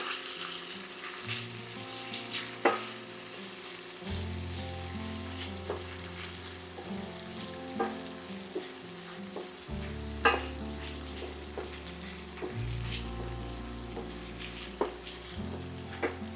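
Cumin seeds sizzle and crackle steadily in hot oil while frying for a tandoori-style chicken curry, with occasional sharp pops and stirring clinks, close and moderately loud with no talking.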